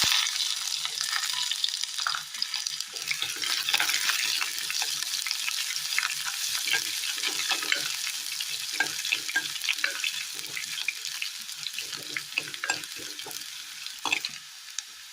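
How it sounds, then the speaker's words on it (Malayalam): Chopped shallots fry with popped mustard seeds in hot oil, giving a steady close sizzle broken by stirring scrapes and small crackles, with no voices. "പൊട്ടിയ കടുകിലേക്ക് ചെറിയുള്ളി അരിഞ്ഞത് ചേർത്ത് കൊടുക്കാം."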